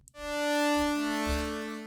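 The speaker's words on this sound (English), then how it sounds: "very synthy, very like saw wave" An unfiltered sawtooth synthesizer patch meant for orchestral use holds one bright, buzzy, strident sustained note with a dense stack of harmonics. It sounds loud and close and plays alone for nearly two seconds.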